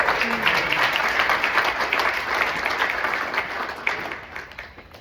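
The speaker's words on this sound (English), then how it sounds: "Let's give him a round of applause." Mourners at a Las Vegas celebration of life give a round of applause, a full room clapping steadily and then thinning out toward the end, with a few voices faintly beneath.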